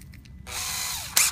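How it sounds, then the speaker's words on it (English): Power drill driving a screw through a door hinge into hard ash wood: a steady whirring run of about three-quarters of a second that slows at the end, then a short sharp burst as the screw seats. "And take the drill."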